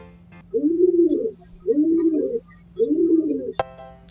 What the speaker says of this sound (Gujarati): પીજન એટલે કબૂતર